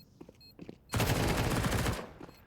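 A sustained burst of rapid MP9 submachine gun fire in Counter-Strike, loud and close, lasting about a second, with faint game sounds before it and no talk over it.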